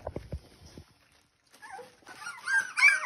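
Puppies in a five-week-old litter whimper and yip before feeding, a few soft low whines early on, then a pause, then a rising run of high-pitched squeals and whimpers growing louder toward the end.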